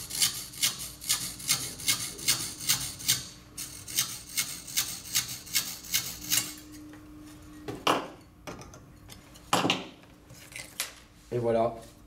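A hand saw rasps back and forth through a building facade panel in quick, regular strokes, then slows to a few scattered scrapes and knocks, close by.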